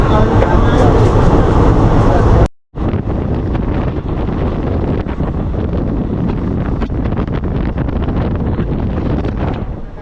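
A moving passenger train rumbles steadily with rhythmic clatter and wind roar, briefly cutting out before resuming at full, close volume.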